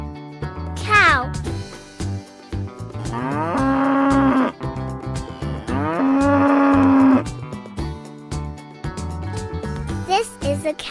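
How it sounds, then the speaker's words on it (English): A cow moos in two long, drawn-out lowing calls, loud and close, set over light background music with a brief animal call at the start. "This is a cow."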